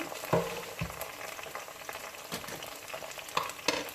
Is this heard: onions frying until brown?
yes